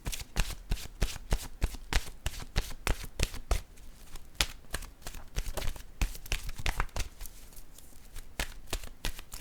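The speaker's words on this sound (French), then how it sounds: "Je vais piger une carte de mon oracle de l'âme intuitive." Oracle cards shuffled and drawn by hand, a steady close run of crisp riffling bursts and soft card slaps repeating for several seconds, with no talking.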